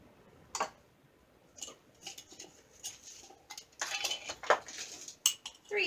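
A hand sifter works four teaspoons of spice into flour for iced oatmeal gingerbread cookie dough, giving close, intermittent metallic clicks and soft scraping taps in irregular bursts with no talking.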